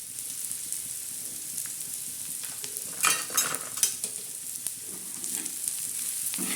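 Prawns and onion chutney sautéing in a pan, a soft frying sizzle with clusters of scraping stirs and clatter from a spatula, fairly quiet and close.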